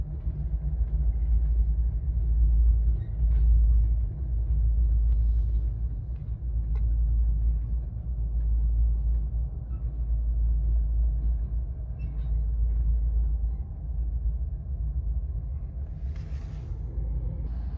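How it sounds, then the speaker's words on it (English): Three CSX freight locomotives rumble south past a track switch, a deep, steady low-frequency drone of diesel engines holding constant and fairly close throughout, with faint metallic clanks and squeals scattered on top. "the same clip shown in the intro of the 3 locomotives moving south past the switch"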